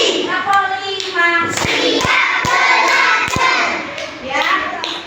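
Children sing a counting clapping song together, their voices steady and loud, with sharp hand claps landing every half second or so through the middle of the singing.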